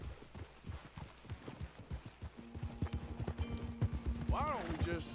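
Horse hooves clip-clop at a steady trotting rhythm while ridden in Red Dead Redemption 2, close and continuous, with a whinny near the end and voices talking over it.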